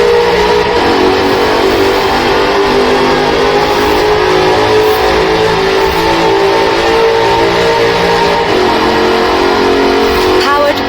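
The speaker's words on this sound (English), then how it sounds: "By a 5-litre V8 supercharged engine." A car with a 5-litre supercharged V8 accelerates in Forza Horizon 4, a loud sustained engine roar that holds steady for several seconds, with a narrator talking over it.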